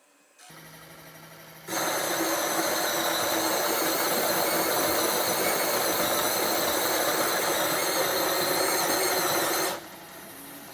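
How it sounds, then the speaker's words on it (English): A Spinn Coffee Maker Pro grinds coffee beans with a loud, steady, high-pitched motor whir that starts after a softer hum and runs for about eight seconds before dropping off. The sound is close and carries no speech. "it'll start grinding the coffee beans"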